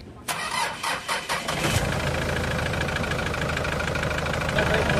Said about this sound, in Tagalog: tapos pinay-start ko na yung makina